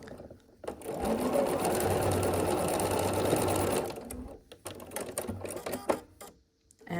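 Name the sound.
sewing machine stitching quilt pinwheel block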